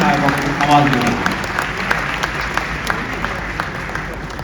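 Audience applause at a mushaira poetry gathering, a moderately loud, steady wash of clapping with a voice speaking over it at the start.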